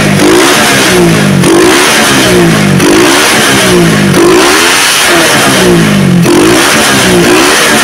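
A motorcycle engine fitted with a PWK carburetor revs repeatedly through mid to high RPM, loud and close, with rhythmic rising throttle blips about every second and a half and no pauses between them.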